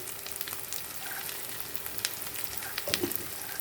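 Sausage sautéing with tomatoes and fava beans in a pan, a soft continuous sizzle with a few faint stirring clicks, quiet and close.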